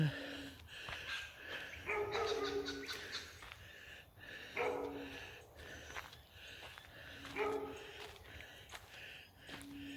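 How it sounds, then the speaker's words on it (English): A neighbour's dog barks several times at a distance, faint and intermittent, amid outdoor garden background noise. "the dog's barking from the neighbour"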